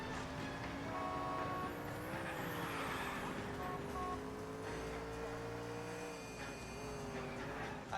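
Car driving in the L.A. Noire video game, a steady engine hum with a droning tone rising and falling slightly, continuous and fairly loud throughout with no talk.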